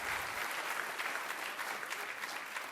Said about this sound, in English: that is your opportunity to go absolutely wild with applause